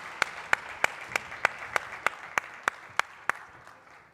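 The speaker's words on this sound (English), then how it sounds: "So please encourage them with a huge round of applause." An audience at the Spark Minda BE Summit 2025 claps for Team Vietnam, about a dozen sharp, evenly spaced claps in a steady rhythm over a broad hall murmur, fading slightly toward the end.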